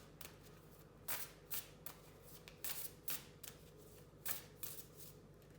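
Oracle cards are shuffled and drawn, giving a string of quick, crisp riffling bursts at an irregular pace, close and fairly quiet, with no voices.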